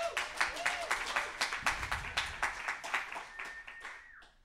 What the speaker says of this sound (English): Going to get a round of applause for Well World.